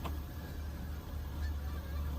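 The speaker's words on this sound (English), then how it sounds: "oh man, look at these birds, man." Geese honk nearby over a steady outdoor rumble, a few brief calls rising out of the background with no talking during the sounds.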